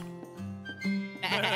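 A few sheep bleat in turn, wavering calls close by, ending in a louder, harsher bleat.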